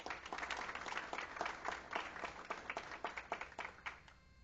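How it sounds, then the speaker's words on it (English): An audience at a school district board meeting claps in a short round of applause, a moderate, somewhat sparse patter of hands that thins toward the end. "Let's give them one more round of applause."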